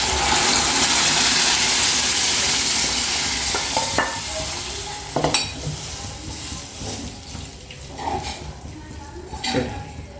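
Coriander goes into gongura dal cooking in a pan, with a loud steady sizzle and hiss, then scattered clinks and scrapes of a spoon stirring against the pan as the frying settles.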